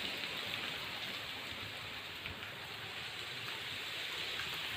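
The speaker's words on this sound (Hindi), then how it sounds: "बहुत तेज़ बारिश आ गई है" Heavy downpour outdoors in India, water running into a drain, heard as a dense, continuous hiss of rain that stays even and unbroken throughout, fairly soft in level with no voices.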